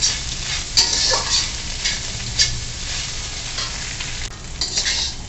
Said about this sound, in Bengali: এটা বেশিক্ষণ ভাজতে হবে না, অল্প একটু নাড়াচাড়া করে নামিয়ে নিচ্ছি